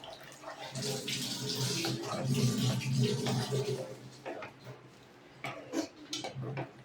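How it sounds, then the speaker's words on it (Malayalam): Water pours into a pan of simmering brinjal tamarind curry, a steady splashing stream for about four seconds before it tapers into quieter dribbles and faint clinks. "ബാക്കിയുള്ള വേവിന് നമ്മൾ ഇത്തിരി വെള്ളം വെത്തണം."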